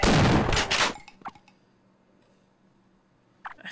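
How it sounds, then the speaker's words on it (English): Shotgun blasting in the game Half-Life, a loud burst of firing at the start, then a few faint clicks and mechanical ticks in near silence, and another short shot near the end. "Shotgun to the face,"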